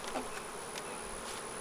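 Honeybees hum steadily around an opened hive during a split check, a close, even drone with a few louder passes from single bees.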